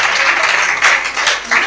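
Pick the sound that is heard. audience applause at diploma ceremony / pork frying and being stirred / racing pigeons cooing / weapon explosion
audience applause at diploma ceremony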